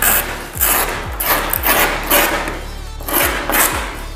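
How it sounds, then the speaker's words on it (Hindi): A hand file rasps along the edge of sunmica laminate pasted on plywood, trimming the excess in steady repeated strokes about every half second, close and loud with no talk. "सनमैके को पेस्ट करने के बाद जो हिस्सा फालतू बच जाता है उसको रेती के माध्यम से"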